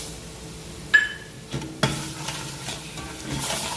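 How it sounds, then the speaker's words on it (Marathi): Ginger-garlic paste goes into hot sunflower oil with cornflour, followed by a few sharp clacks and scrapes of a spoon stirring against the pan over a soft sizzle, close and quiet. "एवढी आपण आलं लसूणची पेस्ट टाकायची याच्यामध्ये"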